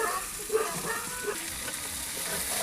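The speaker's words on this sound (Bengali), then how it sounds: "এবার ভেজে রাখা পটল আর আলু দিয়ে দিচ্ছি।" Fried pointed gourd and potato pieces added to a pan of sizzling cooked spices, a soft continuous sizzle with faint stirring scrapes, no talk.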